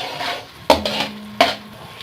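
Khoya fries in hot ghee while it is stirred for zarda, a Pakistani sweet rice. Soft sizzling plays under sharp scrapes and clinks of a spoon against the pot, with two distinct knocks against the metal.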